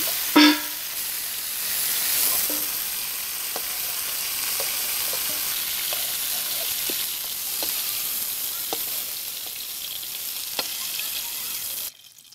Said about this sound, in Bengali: এখন আমি আলুগুলো ভেজে নিচ্ছি।